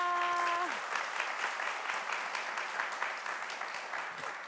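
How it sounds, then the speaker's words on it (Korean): A studio audience at a Korean church broadcast program applauds loudly as a guest is welcomed, dense clapping that fades gradually, right after a brief musical tone. "박수 부탁드립니다"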